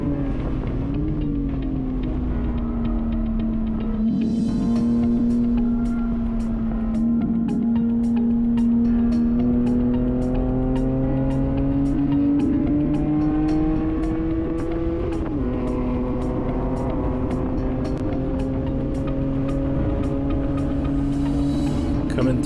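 A BMW 128i track car is heard from onboard during a lap: a strong, steady engine drone rising and falling through gear changes, with several sharp shift breaks and constant road and wind roar.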